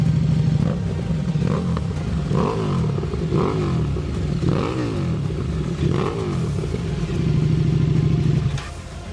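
A KTM motorcycle engine idles steadily up close, then is blipped through about five sharp revs before settling back to a loud, even idle.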